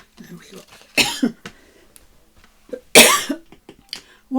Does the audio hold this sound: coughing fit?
yes